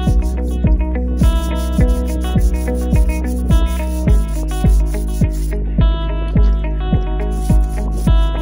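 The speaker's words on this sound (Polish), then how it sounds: "Trzeba będzie jeszcze niektóre miejsca wyszlifować" Rhythmic rubbing strokes of sanding on corroded metal, close and steady, repeating roughly twice per second against a droning background hum.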